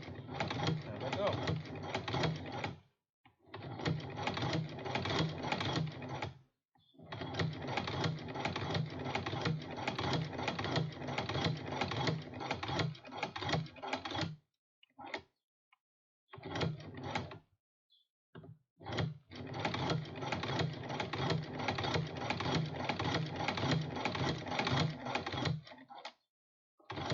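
Sewing machine stitching fabric for a drawstring dice pouch, running in long steady bursts separated by brief pauses, close and fairly loud.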